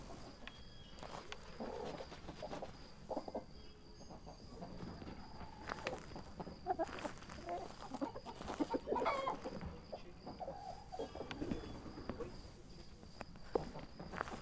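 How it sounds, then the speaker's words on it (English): Ambient chickens cluck in the ghost-hunting video game Phasmophobia, with scattered soft clucks and short calls over a quiet background, punctuated by faint footstep-like thumps. "I think they're just noises of chickens."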